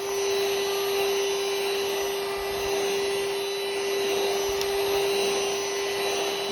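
A cordless vacuum cleaner runs steadily and close by, giving a constant loud hum with a bright tonal whine and no talking.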